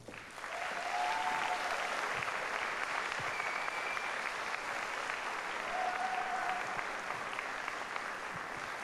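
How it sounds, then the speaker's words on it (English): Audience applause at a medal presentation during a sports awards night, a steady dense clapping that rises quickly and holds loud throughout with no talk. "Another round of applause"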